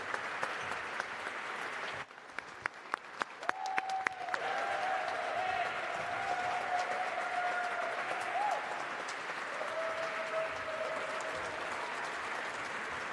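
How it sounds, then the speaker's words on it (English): Applause for the Artemis II astronauts at a United Nations panel: a few scattered claps start it, then steady, moderate clapping fills the hall and continues to the end. "Let's please give a round of applause at the United Nations with the Artemis II astronauts."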